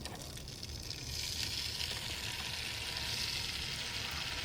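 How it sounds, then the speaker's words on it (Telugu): Ripe red chillies fry in groundnut oil for a gongura chutney, giving a steady close sizzle that swells louder after about a second and then holds, with no talking. "పండు మిరం కొంచెం నూనెలో వేయించాలి."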